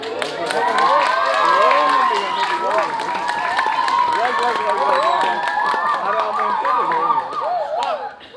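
Scattered clapping from an audience at a Balinese Drama Gong performance mixes with many overlapping voices calling and chattering, a loud, lively crowd close by throughout.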